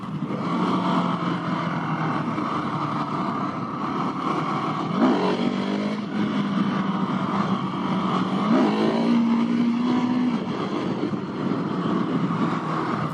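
Husqvarna 701 Supermoto single-cylinder motorcycle engine running steadily through the gears, with rising rev sweeps around mid-clip, heard up close and fairly loud against continuous wind and road noise.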